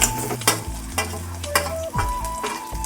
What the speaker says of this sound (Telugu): వెల్లుల్లి పేస్ట్ వేస్తున్నాను పచ్చివాసన పోయేలాగా వేగాలి